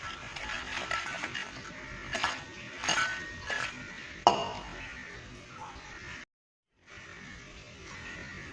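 Crispy fried cauliflower tikka coated in cornflour being handled in a serving dish, giving light crunchy clinks and rustles that rise in a few brief bursts at close range over soft kitchen background.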